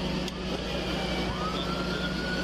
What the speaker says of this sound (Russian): Сирены! Сколько копов!